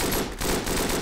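Rapid machine gun fire in the WWI trench warfare game Verdun, a dense burst of rattling shots lasting about a second, loud and close with a brief gap midway.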